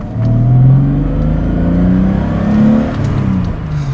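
BMW E30 engine fitted with a catalytic converter, running at a steady, fairly quiet level with slow rises and falls in pitch like gentle revving, close by with no talk over it.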